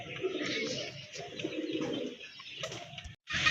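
A large pair of domestic desi pigeons cooing close by in repeated low throaty phrases, with a brief wing flutter and a short gap before the cooing resumes.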